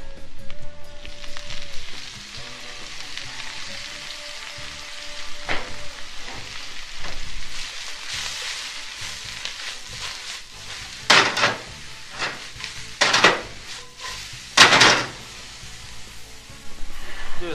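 Chopped mushrooms frying in hot oil in a pan for burritos, a steady sizzle with a few tonal beeps early on, then several loud scraping stirs and clattering pan knocks later, no talk.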